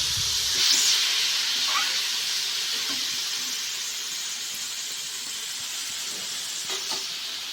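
Water poured into a hot cooking pot sets off a loud burst of steamy hissing that settles into a steady, gradually fading sizzle, close up with no talking.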